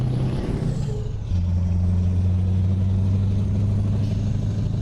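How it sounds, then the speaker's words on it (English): A heavy truck engine in Euro Truck Simulator 2 drones steadily and loudly, its low hum stepping up in pitch after about a second and then holding a constant rumble with no voices. "Let me know if the engine sound is too loud."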